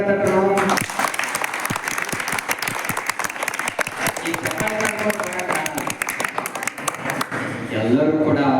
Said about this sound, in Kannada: ನಿಮ್ ಜೊತೆ ನಾವು ಬರ್ತೇವಂತ ಜೋರ್ ಚಪ್ಪಾಳೆ ತಟ್ಟರು.